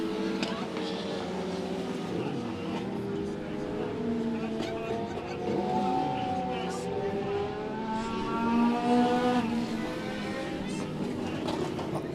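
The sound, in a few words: race cars at Monett Motor Speedway, car 76 spinning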